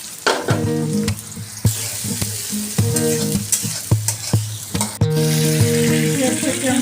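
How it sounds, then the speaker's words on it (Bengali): Chopped garlic and onion fry in a wok with a loud, close sizzle, punctuated by repeated sharp scrapes and clanks of a spatula stirring against the metal. "চুলায় কড়াই বসিয়ে দিলাম, দিয়ে দেব রসুন কুচি, পেঁয়াজ কুচি, একটু বাদামি ব্রাউন করে ভেজে নেব।"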